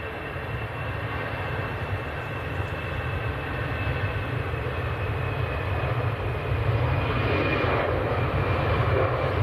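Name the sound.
EasyJet airliner at Manchester Airport, flight to Amsterdam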